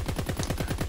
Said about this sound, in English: Intentionally shoot him in the head and then keep shooting like nothing happened.